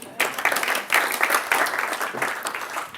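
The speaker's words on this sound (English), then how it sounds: "Give me a clap for that one." An audience claps together in a talk or seminar room, a dense burst of applause that starts abruptly and holds steady for about three seconds with no voices over it.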